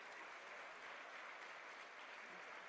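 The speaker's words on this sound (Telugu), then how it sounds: "వీళ్ళందరూ కూడా గట్టిగా చప్పట్లు కొట్టాలి" Dense, steady audience applause fills the hall at a government job-appointment ceremony attended by a chief minister, loud and unbroken from start to finish with no voices standing out.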